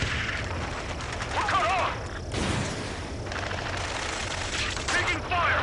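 Sustained gunfire and bursts in Ace Combat 7, a dense crackling barrage throughout with heavier blasts near the middle, while a radio voice shouts briefly over the fighting.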